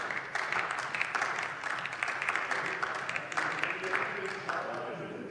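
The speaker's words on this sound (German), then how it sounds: "Lieber Markus Tönz, das ist dein Applaus von den Piraten" Members of the Pirate Party clap in a parliamentary chamber during a debate, a steady, moderately distant patter of applause filling the hall.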